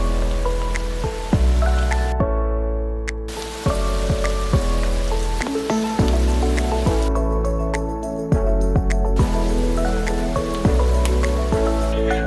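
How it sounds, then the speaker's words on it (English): Sliced Hungarian sausage and spices sauté in a pan, a steady, close crackling sizzle running the whole time beneath prominent background music. "Saute the sliced Hungarian sausage for about 3 minutes and add the rest of the spices."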